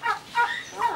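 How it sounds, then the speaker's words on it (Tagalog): A turkey calls out in a few quick, throaty bursts, rising and falling in roughly three pulses, fairly close and clear with no talking over it, heard on a 2006 trip to Legazpi City. "Ah, questo è tacchino."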